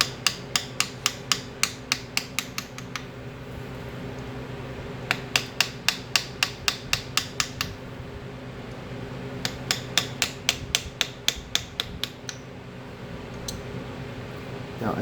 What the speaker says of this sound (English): it's the way the chisel flows in the metal